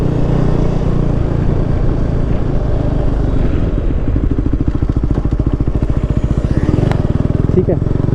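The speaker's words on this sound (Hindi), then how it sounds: "ये थर्ड गियर में लग गई ना बाइक" A KTM motorcycle engine thrums close and loud while riding in third gear, its rapid pulsing exhaust beat steady and strengthening as it gets on the road, with wind rush over the microphone.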